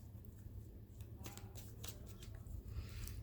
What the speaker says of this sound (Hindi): कार्ड्स आप जानते हैं मैं जल्दी जल्दी निकालती हूँ